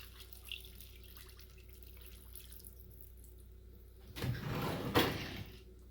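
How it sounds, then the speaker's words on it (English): Water splashes and pours briefly into a container to rinse out leftover contents, a short burst near the end after a quiet stretch. "Just gonna put a little water in this to get all the rest of it out."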